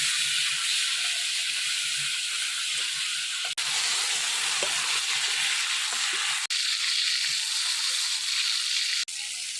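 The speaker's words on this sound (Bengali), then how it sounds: "এবার মাছগুলো ভেজে নেই।" Fish frying in hot oil in a traditional Bengali village kitchen, a steady close-up sizzle and hiss that runs unbroken, with no talk.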